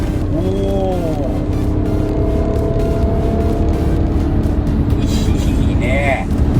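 A 1991 Honda NSX engine pulls steadily in fourth gear, a continuous loud drone with rising whine-like harmonics at the start and again near the end, while people talk over it.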